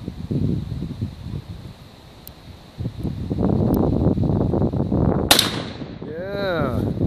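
.410 shotgun firing small pellets at a swinging target outdoors, one sharp loud report standing out among quieter rustling and soft voices, with a fainter pop earlier.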